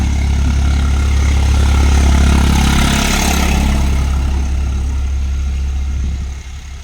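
A driving-school car with a manual clutch idles close by, a loud steady low engine rumble that holds evenly and eases off slightly near the end, with no speech.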